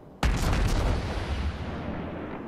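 A World of Warships warship fires a salvo of HE shells in a single sharp, heavy boom that rolls into a long rumbling decay, with no talk over it.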